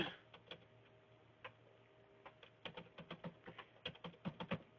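A password being typed on a computer keyboard, quiet close key clicks that start out sparse and speed up into a quicker irregular run.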